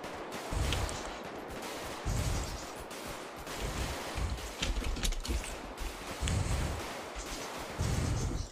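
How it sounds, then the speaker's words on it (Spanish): Video game gunfire crackles in repeated bursts at a moderate, somewhat distant level, rapid volleys of shots recurring every second or two with no talk over them. "Ok, le damos de tiros ahora."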